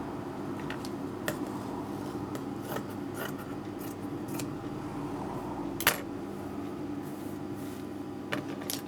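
Scissors snip through cloth strips during tailoring of a salwar kurta, a series of crisp separate cuts spaced irregularly over a steady low room hum, with one louder snip partway through; nobody speaks.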